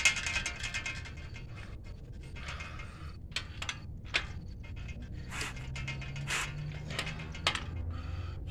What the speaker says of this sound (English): that tire spinning